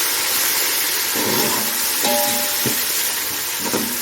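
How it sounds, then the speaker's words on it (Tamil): A handful of fresh coriander leaves is sautéed in a pan for mutton biryani, giving a steady, loud, close sizzle with a few faint clinks from stirring, without speech. "இது கூடவே ஒரு கை கொத்தமல்லி இதை வந்து நல்லா வதக்கிட்டுக்கோங்க"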